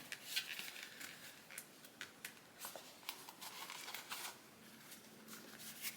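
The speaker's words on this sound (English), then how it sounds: "I'm going to unzip it the rest of the way." A zipper on a small sewn bag is drawn open in short, rasping pulls, close by and quiet, with small pauses between strokes.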